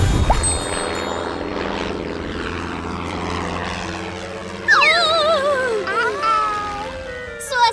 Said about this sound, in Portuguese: Morpho, morfe em um avião para salvar a tia Augustine.